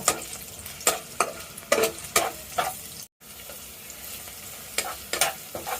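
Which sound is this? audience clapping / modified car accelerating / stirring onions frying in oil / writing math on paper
stirring onions frying in oil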